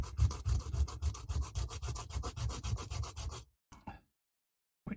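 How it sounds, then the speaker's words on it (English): Coarse sandpaper scrubbed over a plastic part in quick, even back-and-forth strokes, a close, rhythmic rasping that stops abruptly, followed by a couple of brief scuffs and silence. "let's just get a bit of aggressive sandpaper and smooth that down"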